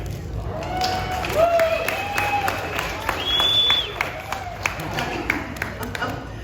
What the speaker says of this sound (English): I want you all to give a nice warm round of applause to Kole.